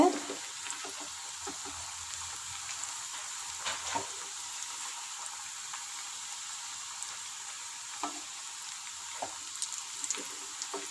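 Fish cutlets fry gently in a pan over low heat, a soft steady sizzle with a few faint clicks and scrapes from turning, fairly quiet and without talk.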